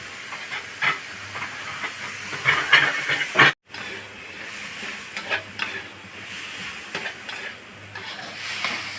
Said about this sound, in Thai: ผัดกระเทียมพริกไทยกับผัดกะเพรากบ